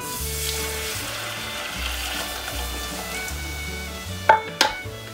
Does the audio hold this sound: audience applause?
no